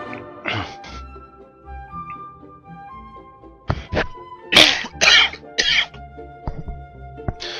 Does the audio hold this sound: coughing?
yes